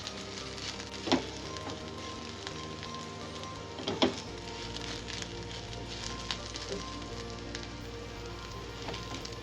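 Sesame seeds and a little poppy seed sizzle and sauté in hot oil in a pan on a gas stove, a steady soft crackle with a few sharper pops.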